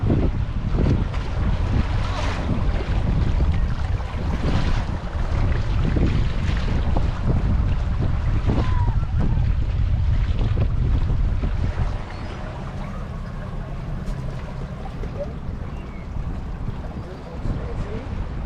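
Steady wind buffets a boat in a small harbor in Key Largo as it comes in to dock on a breezy day, with a broadband rushing roar throughout, easing somewhat toward the end.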